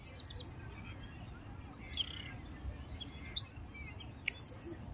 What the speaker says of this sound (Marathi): आता हा एक अजून एक नवीन थवा आलाय पक्ष्यांचा